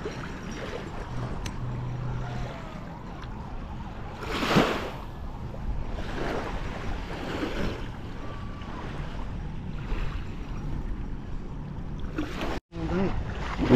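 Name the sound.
sea waves at a beach in Subic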